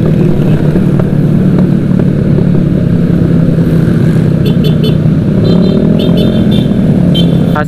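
A large mixed group of motorcycles, automatic scooters and big bikes, rides together at night with a steady, loud, continuous engine drone, and brief higher-pitched engine whines and revs rise over it toward the end.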